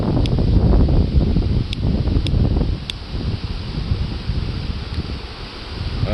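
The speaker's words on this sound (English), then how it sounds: "I'm just going to torch and scorch here because it's getting a little breezy" Outdoor breeze buffets the microphone in heavy low rumbling gusts, strongest at the start and easing after a few seconds, with a few faint high ticks above; nobody speaks.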